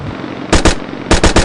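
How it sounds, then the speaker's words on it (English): Gunfire effect for an animated film: two quick sharp shots, a short pause, then a rapid burst of three, loud and close with nothing else around them. "sounds of gunfire."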